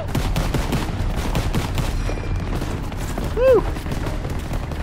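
Gunfire and explosions in the World War II video game Call of Duty: WWII, a dense stream of close shots and blasts with a brief whistling sound near the end, under a voice that shouts briefly.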